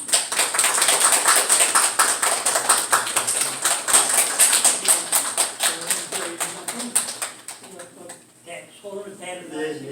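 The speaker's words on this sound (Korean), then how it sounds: "전달해 주시면 우리 박수로 한번 좀." A church congregation claps together in a dense, lively burst of applause that gradually thins out, followed by quieter voices speaking as the clapping fades.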